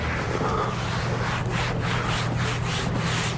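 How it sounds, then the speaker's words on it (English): A microfiber cloth wipes wet paste residue off freshly hung wallcovering, a steady close rubbing and swishing with soft repeated strokes and no talk. "I like to wash off the excess right now while it's wet. Here the microfiber does the best cleaning job"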